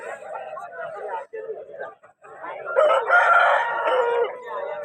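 A rooster crows at a Vijayawada rooster market before Sankranti, over a busy mix of nearby talking voices, the crow rising clearly for a second or two amid the chatter.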